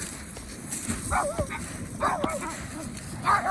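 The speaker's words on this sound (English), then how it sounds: "Dogs everywhere." Dogs barking on Cley beach during a sea angling league match: several short barks and yelps at mid distance over steady wind and surf noise, with a few sharper calls near the end.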